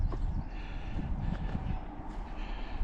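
A goods train rolls past with no carriages, a steady broad rumble of wheels and engine that holds at moderate loudness throughout.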